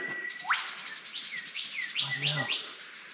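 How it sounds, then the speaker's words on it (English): Birds chirp in fig trees in a valley near Rawson Falls, Port Macquarie, in a quick series of rising, sweeping calls, with a brief lower buzzy note mid-way, against quiet background. "There's birds up there munching on them."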